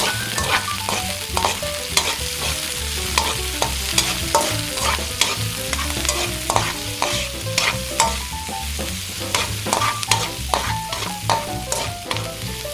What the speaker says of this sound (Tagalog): Ngayon po ay pwede nang isunod ang sibuyas. Hahaluin lang natin mabuti.